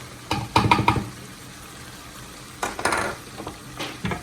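Meat browning in a pan for plov, with bursts of stirring and scraping, a soft sizzle underneath, and clinks of a utensil against the pan, no talking.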